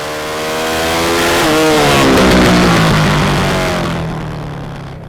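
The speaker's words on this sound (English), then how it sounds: "it's leg out over the curb again as he fights to keep the bike in close to the apex and blasts over the line" A racing motorcycle at a 2009 British Speed Hillclimb Championship round roars loudly past, its engine note rising and sweeping in pitch as it swells to a peak, then fades away as the bike blasts on.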